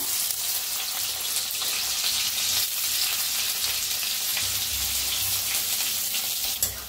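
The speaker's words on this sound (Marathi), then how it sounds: "कढाईत तेल ओतूया। तेल तापले या, त्याच्यात टाकूया कांदा।" Onion fries in hot oil in a kadai, making a continuous close sizzle with faint stirring scrapes and a small clink near the end.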